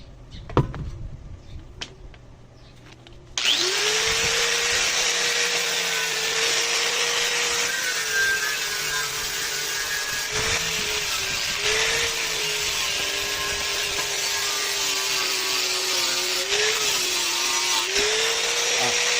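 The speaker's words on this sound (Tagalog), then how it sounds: "Steel brush. Para matanggal kaagad yung kalawang." An angle grinder spinning a steel wire brush spools up after a few soft clicks and then whines steadily and loudly while scrubbing rust off a Honda Beat fuel tank, its pitch dipping slightly under load.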